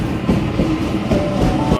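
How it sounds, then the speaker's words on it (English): A Waratah A23 train pulls away from the platform at Hornsby station, a continuous close rumble with rhythmic wheel clatter and a faint tonal whine. "A23 now departing platform number 2, ready to head up to the sidings."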